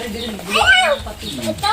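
Pigeons coo close by in soft, throaty warbles that rise and fall, with a clear call near the middle and another at the end, mixed with faint voices.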